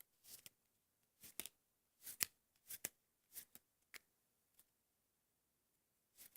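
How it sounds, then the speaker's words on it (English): Quiet, crisp riffling bursts of a blue deck of playing cards being worked in a Hindu shuffle, coming in irregular short flurries with pauses between them and no talking. "I'm doing a Hindu shuffle slash Hindu force here."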